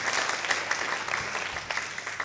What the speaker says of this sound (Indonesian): Berikan tepuk tangan yang paling meriah kepada Tuhan.